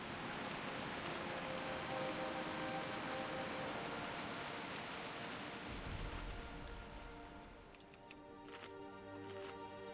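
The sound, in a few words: rain sound effect in a video game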